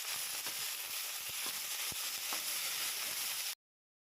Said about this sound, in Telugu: మినపప్పు, జీలకర్ర, కరివేపాకు, ఎండుమిర్చి వేసుకొని ఫ్రై చేసుకోవాలండి.